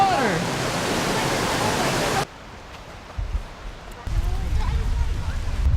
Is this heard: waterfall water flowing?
yes